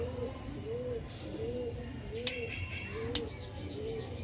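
Lambadi pigeon in a cage giving repeated soft, rhythmic coos, close and moderately loud, with two sharp clicks or knocks mixed in.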